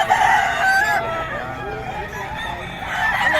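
A fighting stag crows at a poultry sale, its harsh calls rising over the crowd while market chatter carries on in the background.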